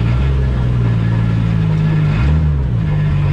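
A 550-horsepower drift car engine roars steadily and loud close up, its revs holding high then dipping and climbing again, with no voices over it.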